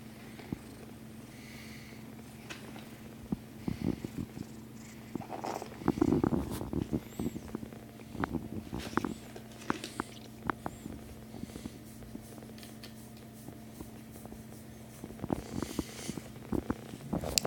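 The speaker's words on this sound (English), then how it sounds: "Wow, that's a lot of purring," A kitten with a stuffy nose purrs steadily and very close, a low continuous rumble with soft snuffly breaths and small rustling bumps over it.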